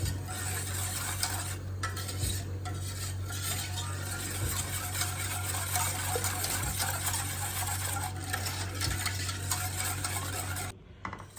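A spoon stirs muhallebi milk pudding in a pot as it cooks, giving a continuous soft scraping and swishing over a steady stove hum, with no talking.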